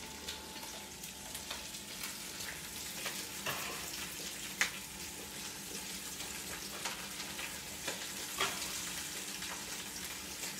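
Onions fry in a pan, giving a quiet, continuous sizzle with scattered crackles and occasional sharper pops. No one speaks over it.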